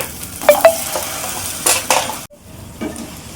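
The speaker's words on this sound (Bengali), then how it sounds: "আবার এই তেলে আমি কচুরমুখিটা ভেজে নেব।" Taro roots frying in hot oil in a home kitchen, with a steady sizzle and a few sharp clinks and scrapes of a utensil against the pan, fairly close and loud with no talking.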